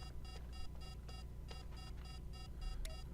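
An alarm beeps in the video game The Day Before, a rapid run of quiet, evenly spaced electronic beeps over a low background rumble.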